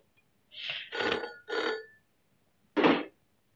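A telephone in a hotel room rings loudly and up close in three rapid bursts, then one more after a short pause. The rings stand alone with no talk over them.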